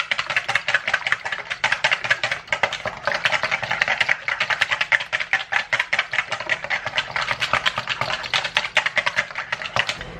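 An electric mixer beating vanilla, sugar and batter in a homestead kitchen gives off a loud, continuous whirring rattle with fast rhythmic clatter, as if the beaters are hitting the bowl, running steadily throughout.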